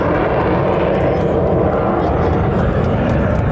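Military jet passing slowly at high angle of attack with gear and flaps down at about 145 knots during an air show at Quonset ANGB, a loud, sustained engine roar, likely with a voice mixed in.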